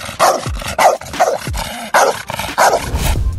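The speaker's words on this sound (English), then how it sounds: "In this video, we can see an awesome black dog" A large black dog barks loudly and close by in a quick series of about six deep, sharp woofs, with brief gaps between them.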